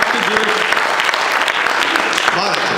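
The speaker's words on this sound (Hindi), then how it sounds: "एक बार तालियां बजा दीजिए" Enthusiastic applause from a crowd at a Hindi comedy poetry show filling the whole moment, with faint voices mixed into the clapping.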